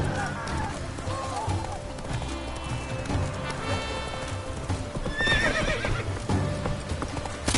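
Hooves of Roach, the horse in the video game Witcher 3, clip-clop steadily at a trot, with neighs and whinnies, a voice speaking, and game music underneath.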